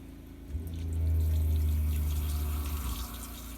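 Water filling an off-grid washing machine inside an RV, a steady low rushing flow that swells after half a second, holds for a couple of seconds, then eases back.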